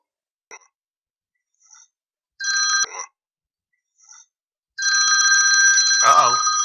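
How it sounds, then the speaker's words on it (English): A telephone rings in steady electronic tones, on and off and then continuously, close and clear, with a brief voice-like sound over the final ring. "phone's ringing, Paul."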